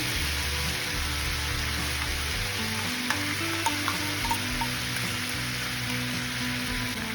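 Katla fish fries in a pan as a paste of ground cashew, raisin and green chili is stirred in, producing a steady close sizzle with faint scraping of the spoon and no talking.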